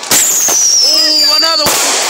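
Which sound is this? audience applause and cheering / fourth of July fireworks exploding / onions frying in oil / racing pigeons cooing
fourth of July fireworks exploding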